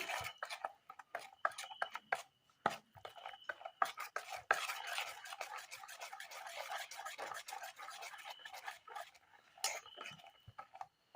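Fermented rice batter with salt being stirred and mixed in a bowl, a close, quiet run of scraping, tapping and clicking strokes in an irregular rhythm, with soft talking underneath.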